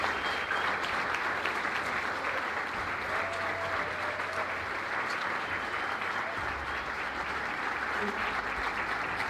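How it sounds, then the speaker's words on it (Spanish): Audience applause at a talk, a sustained, even roar of many people clapping that continues unbroken at moderate loudness from start to finish. "por supuesto merecen un aplauso ustedes"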